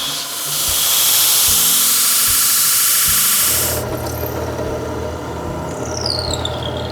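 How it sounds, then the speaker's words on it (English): A bench grinder shapes the steel blank of a mini chef knife, a loud sustained high whine and grinding squeal that cuts off abruptly, leaving a lower motor hum and faint scraping. "This is our grinder. Almost all of the shaping that I do is done on this machine"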